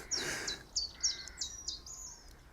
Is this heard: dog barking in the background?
no